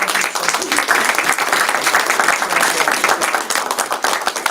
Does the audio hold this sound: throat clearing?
no